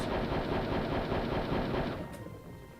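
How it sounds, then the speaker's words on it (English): Heavy machine gun from a pillbox in the video game Hogs of War firing a sustained, dense rapid burst that cuts off abruptly near the end, loud and close with no voices. "Mascettino relying on the machine guns, the heavy machine guns that you find in the pillbox"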